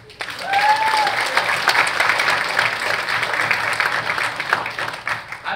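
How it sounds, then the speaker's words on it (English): An audience applauds steadily and loudly, with dense clapping that holds for several seconds and a faint whistle or cheer near the start. "let's give all a round of applause for this man."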